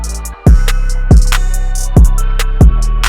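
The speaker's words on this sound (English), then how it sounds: "you should have drums that sound like this" Loud processed drum loop, leveled in the mix and run through a soft clipper, with four punchy kick-and-snare hits in a steady rhythm over a sustained tonal bed.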